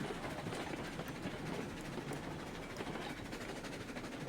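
A steam locomotive in the Railroads Online video game labours up a 2% grade, giving off a steady, dense rumble and rolling rail noise that holds unbroken and fairly faint throughout.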